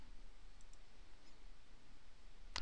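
A single sharp computer mouse click near the end of an otherwise quiet stretch of faint room hiss.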